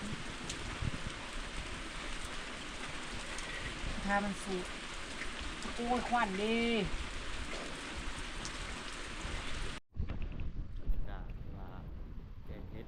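Steady rain falls in a dense hiss throughout, with voices talking over it near the microphone before the sound abruptly cuts and resumes muffled.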